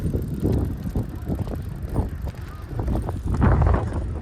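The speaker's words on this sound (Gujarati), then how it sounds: "જો પવન કેટલો આવે છે" Gusts of wind buffet and rumble against the microphone in uneven bursts, loud and close, with a faint mechanical rattle underneath.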